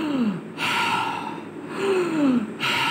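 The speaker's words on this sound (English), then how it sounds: "I'm breathing." One person draws in breath audibly during a science lesson about the respiratory system, two slow inhalations with soft airy noise and a faint voiced rise, close to the microphone, with no talk over them.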